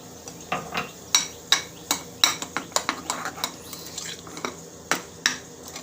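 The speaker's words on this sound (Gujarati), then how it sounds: "હવે આપણે બધું મિક્સ કરી લઈએ" A spoon scrapes and clanks against a metal bowl while moong and semolina idli batter is mixed, giving a busy run of sharp, uneven metallic knocks and rubbing strokes close by.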